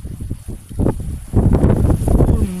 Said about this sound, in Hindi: बहुत हवा चल रही है कि बहुत खतरनाक हवा चल रही है।